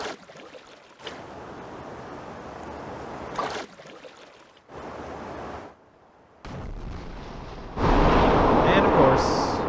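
Boat engines rumble steadily over water in the video game Disaster Report 4, a loud continuous drone that shifts in level in blocks and swells louder near the end.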